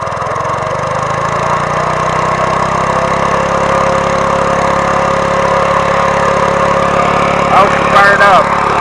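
A vintage Yazoo Master Mower engine runs loudly and steadily at close range, a constant mechanical drone with a whining tone, briefly joined by a few faint squeaks near the end.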